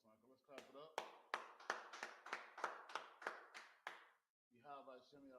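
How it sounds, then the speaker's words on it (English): A group claps in a fast, regular rhythm for about three seconds, with loud crisp hand claps close by and voices talking before and after. "Let's clap it up."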